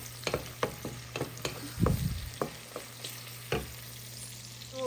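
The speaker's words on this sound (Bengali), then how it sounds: "দেশি সবুজ কালারের বেগুন আর আলু দিয়ে এই মেথি শাকটা ভাজি করব এখন।" Fenugreek leaves frying with green eggplant and potato in a pan, quiet sizzling with scattered soft stirring scrapes and one thicker rustle near the middle, fairly faint and with no voices.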